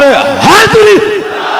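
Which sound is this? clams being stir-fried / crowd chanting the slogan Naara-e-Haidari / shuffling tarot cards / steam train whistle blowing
crowd chanting the slogan Naara-e-Haidari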